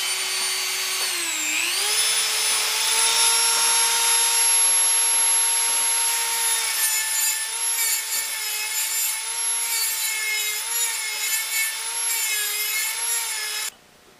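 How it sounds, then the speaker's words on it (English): Weld being trimmed off the fuel tank flange of a 1976 Mazda RX-5 during a carbureted-to-in-tank EFI pump conversion. A loud, steady, high-pitched tool whine holds for about fourteen seconds, dips in pitch briefly near the start, then stops abruptly. "I'm just going to take the opportunity to trim some of this corner weld off, which is encroaching on the ceiling part of the flange"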